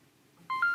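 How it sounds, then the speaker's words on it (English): An Insta360 X3 camera chimes as it reboots after a firmware update: a short two-note electronic beep rising in pitch, clear and close after near silence. "And that was the sound of the camera rebooting."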